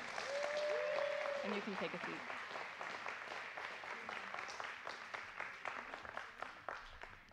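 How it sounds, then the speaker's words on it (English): Audience applause at a church service, a dense wash of clapping that starts loud and slowly thins out, with a voice speaking over it partway through. "Can we give them a round of applause?"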